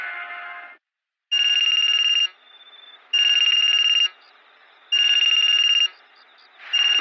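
A telephone rings at night in bursts of an electronic ringtone, four loud, clear rings of about a second each separated by short pauses, with no talking.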